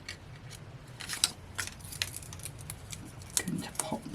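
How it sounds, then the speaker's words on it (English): Scissors snipping through card during Christmas cardmaking, a series of crisp close cuts and soft paper rustles at an uneven pace, with a voice talking quietly in places. "you can just use your scissors to cut that off level"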